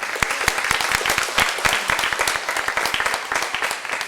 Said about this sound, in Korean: 축하와 격려의 박수 한번 부탁드리겠습니다.